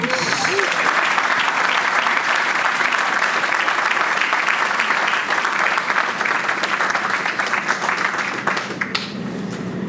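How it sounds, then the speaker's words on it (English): An audience claps warmly at a groundbreaking ceremony for a youth sports and community center, sustained dense applause across the whole stretch with a slight fade at the close. "Please give a warm round of applause"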